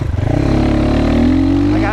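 A GPX FSE300R motorcycle on a ride, its engine loud and close, with the pitch climbing steadily as it pulls.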